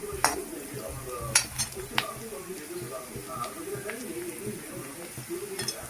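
Onion frying in a pan for a Maharashtrian sprouted moth bean usal, with a steady low sizzle and occasional clinks of a spoon stirring against the pan, heard close and alone.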